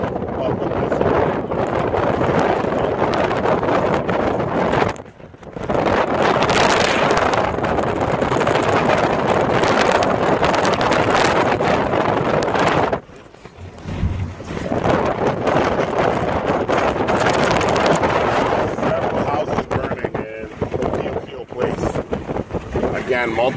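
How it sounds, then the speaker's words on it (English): Hurricane Lane winds from August 2018 roar loudly and steadily across the microphone with gusty surges, dropping briefly near five and thirteen seconds before building again. "so far you can hear the wind"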